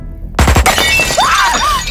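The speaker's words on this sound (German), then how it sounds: "Die Heckscheibe zersprang mit einem lauten Knall." A car's rear window shatters with a sudden loud bang on a hairpin bend of a winding road, then glass crunches and rattles briefly before fading into a trailing squeal.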